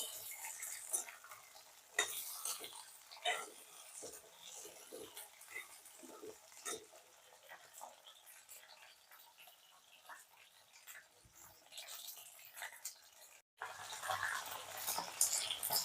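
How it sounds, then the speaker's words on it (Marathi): Okra frying in oil in a pan, a continuous soft sizzle with occasional stirring scrapes and clinks, close and fairly quiet, the sizzle brightening near the end, no speech. "आणखीन 1-2 मिनिटं मी तळून घेते। मस्त सुगंध सुटलेला आहे भेंडीचा तळायल्यामुळे।"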